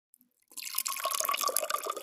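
Juice from a sour pomegranate drips and trickles close up, starting after a short silence and continuing as a quick, uneven run of wet patters and splashes, fairly soft and alone.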